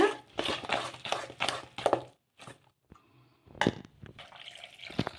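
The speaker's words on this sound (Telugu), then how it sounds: "ఇలా ఇంకా కొన్ని నీళ్ళు అయితే వేస్తున్నాను" Water is splashed into a bowl of semolina rava dosa batter in a home kitchen, in several quick close bursts of pouring and sloshing separated by short pauses.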